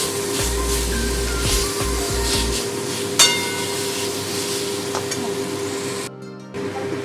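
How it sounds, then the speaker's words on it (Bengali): Boiled olives fry in a little oil and get stirred in the pan, a steady sizzle with scraping at the start, a sharp clink around three seconds, and a short pause near the end before the sizzle resumes. "এটা আমি হালকা তেলে ভেজে দেব। জলপাই সেদ্ধটা আমি এর মধ্যে দিয়ে দিয়েছি। ভালো করে আমি তেলের সঙ্গে মিশিয়ে নেব।"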